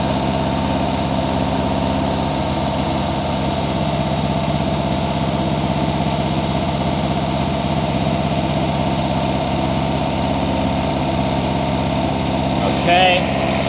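A Toyota BEAMS 3SGE engine with individual throttle bodies idles steadily and loudly close up, an even continuous rumble with a brief change near the end.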